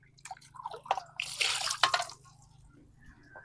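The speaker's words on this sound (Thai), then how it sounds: "มาล้างมะม่วงก่อน นี่ ล้างมะม่วงกิน" Water drips and splashes while mangoes are washed by hand, a few close wet patters and a brief louder splashing burst in the middle, then quieter trickles.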